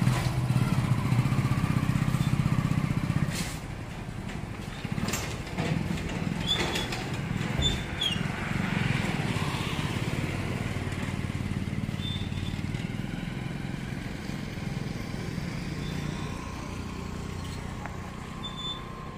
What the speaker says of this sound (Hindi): तो ये ट्रॉली का बाइक से टेस्टिंग लेते हैं।